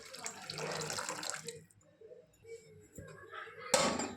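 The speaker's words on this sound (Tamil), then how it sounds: "இப்போ நம்ம குழம்புக்கு தேவையான அளவு தண்ணி விட்டுக்கலாம்" Water is poured into a pot of tamarind curry, a gushing splash lasting over a second, then quieter trickles, a brief pause and a short final burst, all fairly soft and close.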